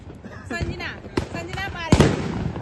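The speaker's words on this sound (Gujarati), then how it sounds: "આજે તો બહુ બધા ફટાકડા લાયા છે અમે ફોડવા માટે" Diwali firecrackers bursting outdoors, several sharp cracks and pops at irregular intervals over people talking nearby.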